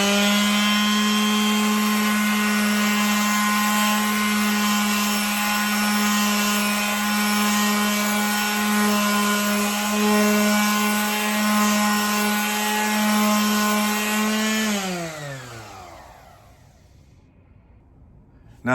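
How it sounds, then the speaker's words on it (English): A sheet sander runs steadily on a wooden surface with a loud, continuous motor whine and a sanding rasp, then winds down and stops near the end. "as soon as you touch the surface that you're going to sand, you start moving it forward and backward immediately"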